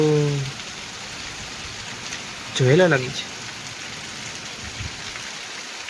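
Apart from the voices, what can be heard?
heavy rain with strong wind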